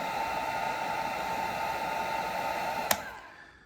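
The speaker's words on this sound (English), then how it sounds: "I went and bought my heat gun here. So you wanna warm this up just to loosen up the plastic" A heat gun blows a steady, loud airy hiss while warming the plastic of an S.H. Figuarts Legendary Super Saiyan Goku action figure, with a brief sharp click near the end as the roar starts to fade.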